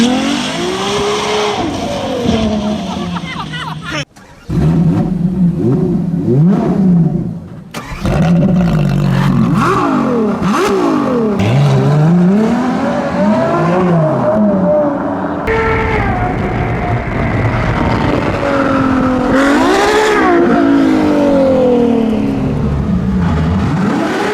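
A Ferrari hybrid 6.3-litre V12 with combined 963 horsepower and rear-wheel drive, its engine revving loud and close in rising and falling sweeps, with brief pauses between runs and no talk over it.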